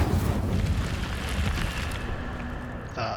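A fire spell cast with a roaring, rushing whoosh in a Hogwarts wizarding video game, a loud sustained burst of flame that thins out and ends with a brief crackle.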